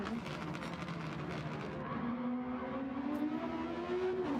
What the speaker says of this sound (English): Great job holding on to that race car as he gets all sorts of slideways there.